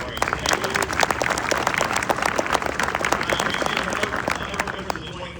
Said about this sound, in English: Please round of applause for American Marines.